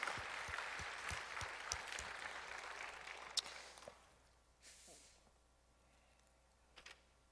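Encouraging applause from a congregation at a youth church service: a dense burst of clapping for about four seconds that thins out and fades, leaving a near-quiet room with a few scattered claps.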